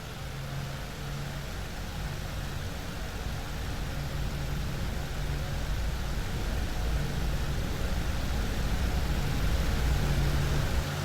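A P-51D Mustang's piston engine drones steadily in the DCS flight simulator, a loud continuous roar with a low rumble that builds slightly over time, and no talk.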